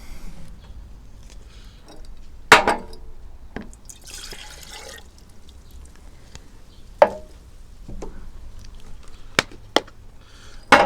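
White vinegar poured while making homemade sweet-and-sour pickles, with scattered drips and splashes, a short burst of liquid flow, and sharp clinks of containers nearby.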